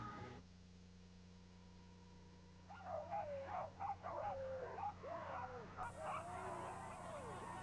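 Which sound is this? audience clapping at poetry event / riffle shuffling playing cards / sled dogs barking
sled dogs barking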